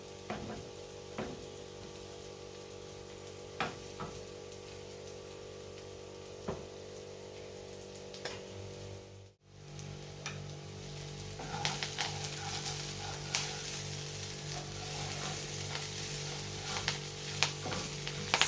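Food for vegetarian nachos fries in a pan with a continuous crackling sizzle, faint at first and then louder and busier after a short gap, with occasional clicks and no voices.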